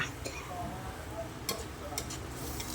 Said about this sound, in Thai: ผัดไก่กับเครื่องแกงให้สุกให้ไก่สุกก่อนนะคะ